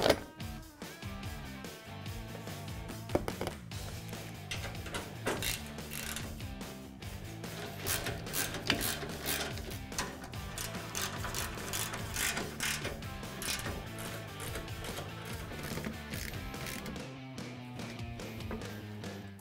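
Ratcheting and wrench clicks from tightening the two bolts on the horizontal heat shield of a Polaris RZR XP 1000 engine, steady mechanical clatter running throughout at close range with no talking.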